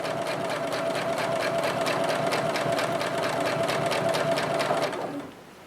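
A sewing machine quilting with silk thread runs in a fast, even stitching rhythm for about five seconds, close and steady, then stops abruptly.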